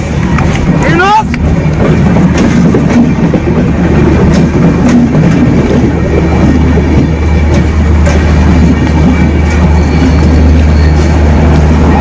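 Train rumbling steadily past at close range, with a continuous low roar and rail noise throughout, and a brief squealing sweep near the start; people talk over it.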